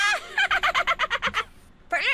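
A turkey gobbles in the Nancy Drew: Curse of Blackmoor Manor video game: a rapid run of about ten loud, close gobbling pulses, a short pause, then one last call.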